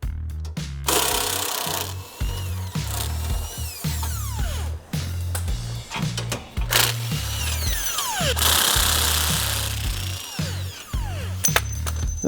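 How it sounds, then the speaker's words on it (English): Power tool driving out the front bumper bolts on a Ford Bronco, close and loud: repeated bursts of whirring and ratcheting that start and stop between bolts, with clanks and rattles in the gaps and no talk. "We're going to remove the bumper by removing the 3 bolts on the passenger side, 3 bolts on the driver's side"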